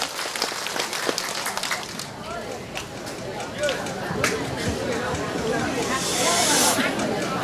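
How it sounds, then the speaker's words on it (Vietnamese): A crowd at a village communal-temple festival applauds to welcome a singer onto the stage, a hissing wash of distant clapping that builds gradually louder, with voices audible over it. "Một tràng vỗ tay thật lớn"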